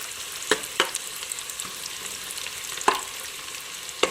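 Onions and spices fry on medium flame for a green chicken gravy, a steady close sizzle with a few sharp scrapes of the spoon against the pan.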